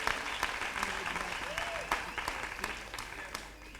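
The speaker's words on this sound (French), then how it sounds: "Ça s'acclame ça, s'il vous plaît." Audience applause and cheering at a live talk, a steady wash of clapping with sharp individual claps throughout, fairly loud and sustained with some crowd voices mixed in.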